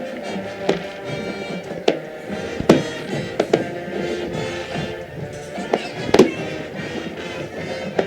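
Fireworks at a high school football game, Carthage versus Webb City, with several sharp pops and crackles scattered over steady crowd and stadium din, some bursts standing out loudly against the background.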